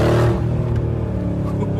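A wrecked and rebuilt 2022 Mercedes G63 revs close by with a deep, throaty exhaust note that sounds much like a Harley, rumbling steadily and loudly across the moment.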